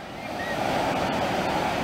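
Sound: Black Sea waves on the beach

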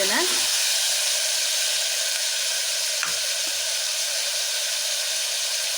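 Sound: frying in oil for avarebele sambar

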